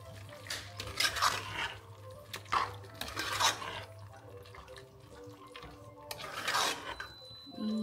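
A spoon stirring dhaba-style chicken curry gravy in a pan makes intermittent scraping, clinking strokes in irregular bursts over a low background hum.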